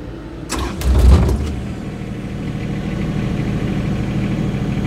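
A Lovol FR 26 excavator's engine cranks on the starter and catches with a loud low burst, then settles into a steady, close, rumbling idle with no talk.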